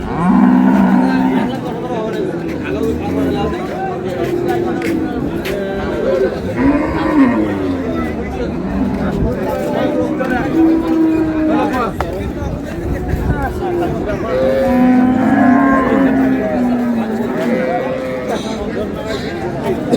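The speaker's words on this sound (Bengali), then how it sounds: "গাভী বাছুর।" Cows and calves at a rural cattle market, several loud drawn-out moos rising repeatedly over a busy crowd of people talking and bargaining nearby.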